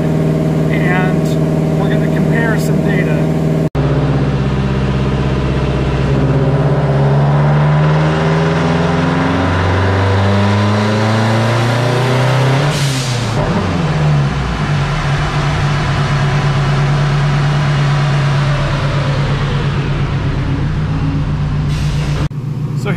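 A Subaru WRX with an EJ257 engine makes a short wastegate-default tuning pull toward 3,500–4,000 rpm. The loud, close engine note climbs steadily in pitch, then drops back off and settles to a steady drone.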